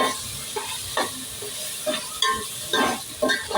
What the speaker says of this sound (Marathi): नुसतं आलं लसूण घातलं तरी चालेल मग आलं लसूणचं प्रमाण थोडंसं वाढवा आता हे मिक्स करूया व्यवस्थित